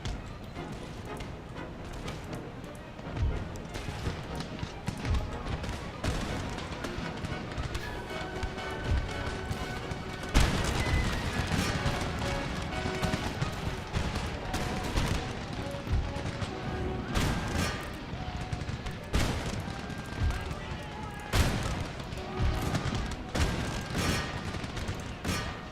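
Dense battle din from Empire: Total War, with crackling musket volleys, rolling gunfire and heavy booms of cannon fire layered continuously, punctuated by louder sharp blasts throughout.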